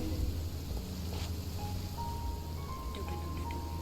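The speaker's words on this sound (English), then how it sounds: "And why is it raining?" Rain pattering in the video game Genshin Impact, a steady wash of rainfall over a low hum, with faint tonal game chimes rising near the end.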